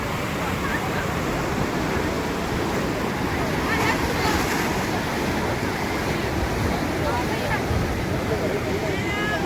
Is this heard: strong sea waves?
yes